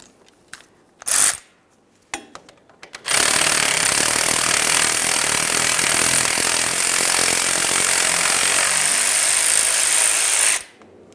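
Power tool removing the 10mm ABS sensor bolt on a 2003–2011 Mercury Grand Marquis rear axle, a few short bursts followed by a loud, steady whirring run of about seven seconds, close and without talk.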